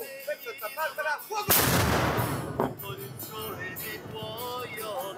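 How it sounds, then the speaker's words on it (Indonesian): The noon cannon on Gianicolo hill in Rome fires one loud, booming shot that rolls away in a long echo. A crowd chatters before the shot and after it. "Hingga kini dentuman meriam monster Gianicolo tetap populer bagi warga Roma dan wisatawan"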